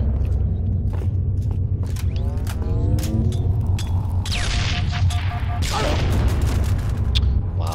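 Rocket blasts and weapon fire during a ranked Halo 3 Slayer match on Cold Storage, with several booming impacts and sharp shots spread across a busy stretch, and players talking over the action.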